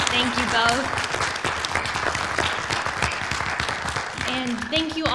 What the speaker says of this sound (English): can we just get one more round of applause for our moderator and our candidates for joining us today?